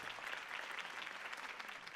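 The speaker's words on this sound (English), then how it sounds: "If only Mr. Wayne, my campaign's largest backer, could have heard that applause" Crowd applause after a campaign speech in the video game Batman Telltale: dense, steady clapping from many hands that fills the whole moment without pause.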